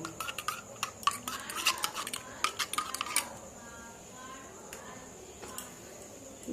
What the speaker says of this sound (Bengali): দিয়ে দেবো 1 চামচে কর্নফ্লাওয়ার। এটা ভালো করে মিশিয়ে নেব।